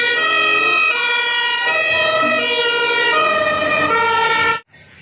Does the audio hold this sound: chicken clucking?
no